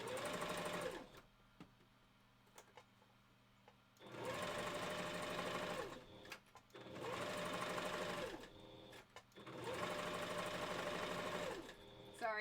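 A sewing machine joins wolf furs in four long runs of steady stitching, each a few seconds, with quiet pauses between bursts.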